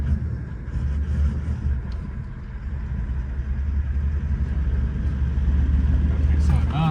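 A Toyota Land Cruiser LX V8 idles in 4x4 on steep terrain in Namibia, a low steady engine rumble close by that grows slightly louder toward the end.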